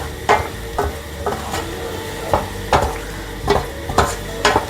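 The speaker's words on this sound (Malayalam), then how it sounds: "ഇനി അതിലേക്ക് നമ്മൾ നേരത്തെ ബട്ടറിൽ സോട്ട് ചെയ്തെടുത്ത മഷ്റൂംസ് ഇട്ട് കൊടുക്കാം." Chopped mushrooms sautéed in butter, stirred in a pan of dosa masala, give a steady sizzle broken by about eight scraping stir strokes at an irregular rhythm. The sound is close and moderately loud, with no talking.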